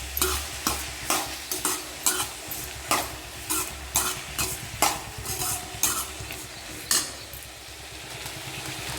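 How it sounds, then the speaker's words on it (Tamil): Salted vegetables sauté in a pan, with a rhythmic run of scraping, clacking stirs about every half second over a constant frying sizzle, close and alone. "எந்த காய் வணக்கிறப்போ உப்பு போட்டோம்னா கொஞ்சம் சீக்கிரம் வேக்காடு ஆயிரும்"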